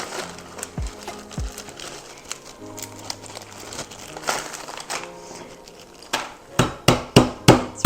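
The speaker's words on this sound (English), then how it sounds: "we're going to hammer these just so they're crushed a little bit" A hammer pounding Cracker Jacks inside a plastic baggie to crush them, with crinkling plastic early on, then a close run of about six sharp, evenly spaced thumps at the end.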